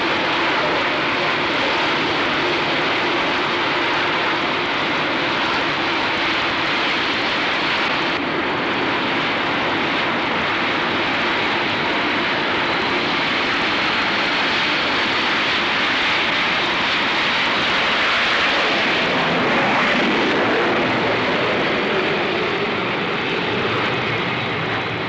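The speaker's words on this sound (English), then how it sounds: "The Vixens and Buccaneers need such a high rate of takeoff that they can only be launched by catapult at 120 miles an hour" Vixen and Buccaneer jets launched by catapult from the carrier HMS Eagle in 1966, a loud, continuous engine roar that swells and shifts over about twenty-five seconds with no voices.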